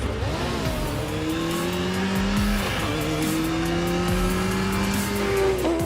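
Racing motorcycle engines in the Isle of Man Tourist Trophy video game whine continuously at high revs, pitch climbing through the gears with brief drops at each shift, loud and close with no talk.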